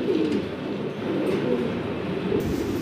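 Fancy pigeons at a farm cooing together in a steady, dense murmur of low throaty calls, close and continuous, with a faint rumble underneath and no talking.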